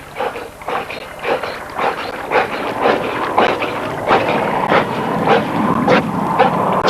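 A hunting dog retrieves a Highland duck from cold water in Scotland, making a series of regular, fairly loud bursts of splashing and effort, close by and repeating roughly every half second.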